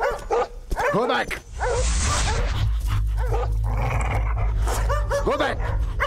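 Several dogs bark loudly and repeatedly at close range in a Malayalam film scene, with yips and whimpers mixed in, while people shout over the commotion.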